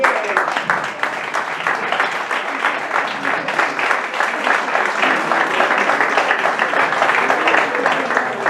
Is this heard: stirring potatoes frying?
no